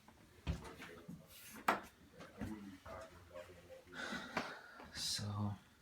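Bathroom drawers in a home slide open and shut in several sharp wooden knocks and scrapes, close by, while a person talks between them.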